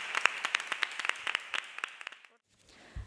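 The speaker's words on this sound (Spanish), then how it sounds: "Así que un aplauso para Rosario, por favor" Applause at an institutional International Women's Day event in Jerez de la Frontera, a handful of distinct close claps in an uneven rhythm that thin out and stop, followed by near silence and a brief low bump.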